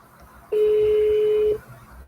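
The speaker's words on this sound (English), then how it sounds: "It's a weird ringtone." A phone ringtone sounds as a single sustained electronic tone lasting about a second, clear and close, over a low murmur of room noise.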